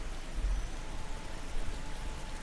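Steady rain in the survival game DayZ, a dense, even hiss of falling drops that holds constant throughout with no other sounds or voices.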